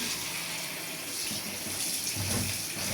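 Tap water runs steadily as spinach is washed in a bowl, a close, continuous splashing hiss that swells briefly near the end.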